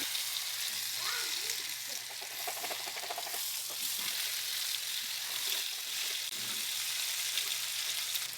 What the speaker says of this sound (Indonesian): Kemudian kita balik lagi posisi kulit di bawah mengarah ke pemanggang supaya kulitnya bisa benar-benar garing.